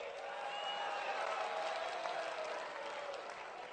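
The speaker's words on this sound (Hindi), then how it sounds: "ताली बजा रहे हो भैया?" Steady applause from a large crowd at a Rahul Gandhi political rally in Panipat, a dense continuous patter of clapping held at an even level throughout, heard from a distance without a break.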